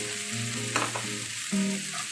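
Chow mein noodles frying and being stirred in a pan over a medium flame, a steady close sizzle broken by a couple of brief scraping stir strokes, with no talking.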